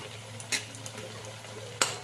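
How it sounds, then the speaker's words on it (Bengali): Banana-stem fritters fry in hot oil with a steady low bubbling sizzle, punctuated by two sharp utensil clinks against the pan and a few lighter taps, close up and with no talking. "এপিট পিট করে সব কটা বড়া ঠিক এইভাবেই আমি ভেজে নেব"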